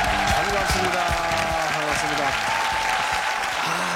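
A television studio audience gives dense, sustained applause for invited active-duty and reserve army soldiers, the clapping loud and steady throughout with a voice speaking over it.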